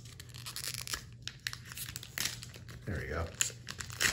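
Crinkly foil wrapper of a pack of Olympic trading cards being torn open and crumpled close up, with short bursts of rustling and ripping between bits of talk.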